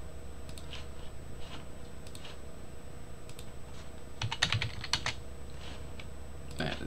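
Computer keyboard typing at a desk, with sparse clicks and short clusters of keystrokes, including a Control X cut shortcut, over a steady low room hum.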